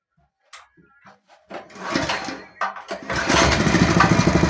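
A small tractor engine cranks with a few short sputtering attempts, then catches and settles into a steady, loud, rattling idle close by.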